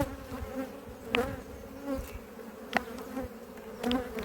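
Honeybees hum around open hive frames holding brood and a few drones, a close, continuous droning buzz with occasional louder passes and light knocks of handling.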